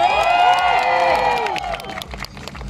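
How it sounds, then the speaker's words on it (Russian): A crowd at a car stance festival cheers and whoops loudly over ongoing clapping; the shouting fades after a couple of seconds while scattered claps continue. "Аплодисменты."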